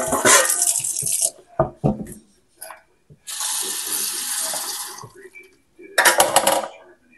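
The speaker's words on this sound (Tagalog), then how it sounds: "So lagyan ko ng konting tubig." A little water runs from a tap in several short, loud bursts close by, separated by pauses and faint kitchen clatter.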